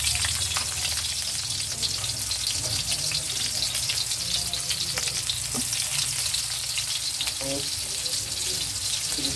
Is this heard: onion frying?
yes